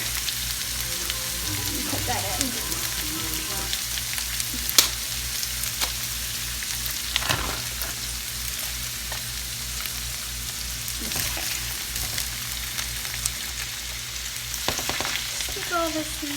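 Steady sizzling of vegetables frying in a pan, with occasional stirring clatters and scrapes, close and continuous with no talking.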